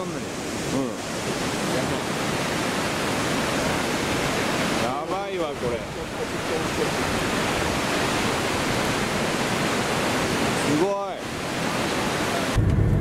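Kegon Falls, a 97 m waterfall, roars in a steady, loud broadband wash with spray close by, while people talk excitedly over it at intervals.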